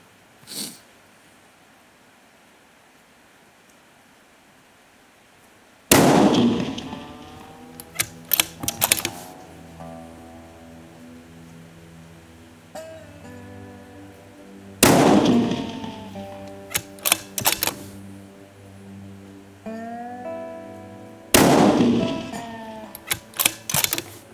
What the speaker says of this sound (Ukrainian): Тому я стріляю за лікову мішень